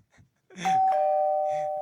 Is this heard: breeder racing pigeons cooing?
no